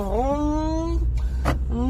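A voice mimics a car engine starting, a rising buzzy tone that climbs and then holds steady for about a second before cutting off, followed by a short breathy burst and the start of another voiced tone.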